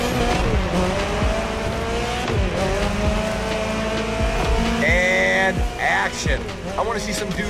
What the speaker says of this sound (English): Your friend has the buggy ready for you, so you get your butt in that thing, and you prepare for the race